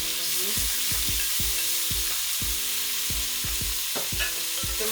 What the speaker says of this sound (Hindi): चम्मच हिलाएंगे।